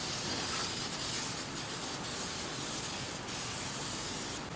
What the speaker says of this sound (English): Just spraying everything off with some brake cleaner.